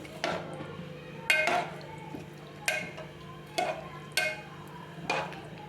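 A spoon stirs tomatoes into masala dal in a pot, giving six or seven sharp metallic clinks against the pot at a loose, steady rhythm over a soft simmering background.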